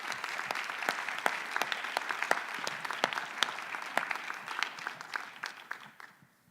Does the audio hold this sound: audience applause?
yes